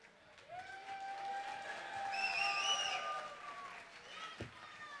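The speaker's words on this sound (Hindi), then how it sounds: "दोस्तों, जोरदार तालियों से उनका स्वागत कीजिए." Audience applause and cheering welcoming a performer at a large festive gala, rising to a loud swell mid-way and then easing off, with tonal music or voices running over the clapping.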